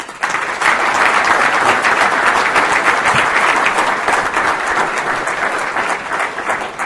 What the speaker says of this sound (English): a warm round of applause for Tom Thibodeau